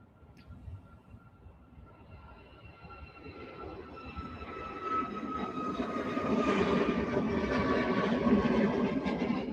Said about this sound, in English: But I think I hear a plane.